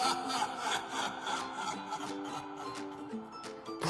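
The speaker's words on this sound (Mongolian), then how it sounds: "Шүднүүдээ сойзоор дээрээс доош чиглэлтэй тойрог маягаар угаана" A toothbrush scrubs teeth in small circles, a quick, close, rhythmic bristly rasp of repeated strokes, with no talking.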